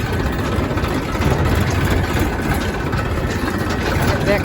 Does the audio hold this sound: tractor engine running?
yes